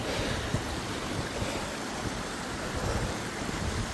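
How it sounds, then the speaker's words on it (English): A steady breeze rushes across the microphone on the slopes of Scafell Pike, a broad continuous roar with small gusty swells and no voices throughout. "Nice little breeze today."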